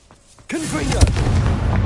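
A Confringo blasting spell goes off in Hogwarts Legacy, a loud, close explosive boom that bursts in after a quiet moment and rolls on as a sustained blast with crackling debris, with a brief voice just before.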